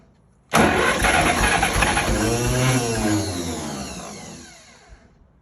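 A tractor engine cranks and catches abruptly, roaring loudly for about four seconds before sputtering down as it fails to keep running, heard up close with no talk.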